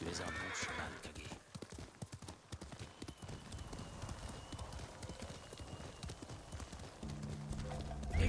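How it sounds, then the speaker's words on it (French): Hooves clop at a steady trot from a horse in the video game Ghost of Tsushima, rhythmic and fairly close, ending with a short whinny over faint game background sound. "Tu es un bon cheval, Kage"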